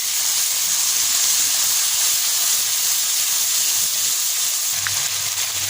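Chicken tikka masala with salt and garam masala being fried in a pan, giving a steady, even hiss of sizzling oil that runs alone throughout at moderate loudness.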